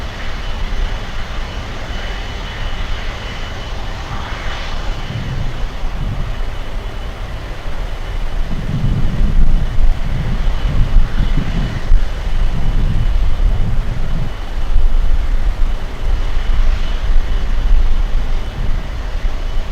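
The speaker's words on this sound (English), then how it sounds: "We have Alaska 305 flying in from Seattle, 2 miles away." An Alaska Airlines jet inbound from Seattle on approach to Miami International Airport, a distant broad engine roar swelling gradually over a steady background rumble, no voices.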